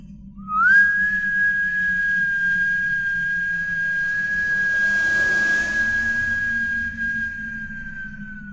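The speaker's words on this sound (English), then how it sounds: "The sound of the whistle was clear and high." A single clear, high whistle blown in one long steady note lasting several seconds, strong and close, before trailing off slightly.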